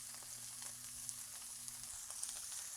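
Butter melting and sizzling on a hot griddle beside sausages and peppers, a steady close hiss of frying with faint crackles throughout and no talking.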